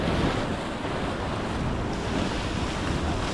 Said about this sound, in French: Avec cette mer très très agitée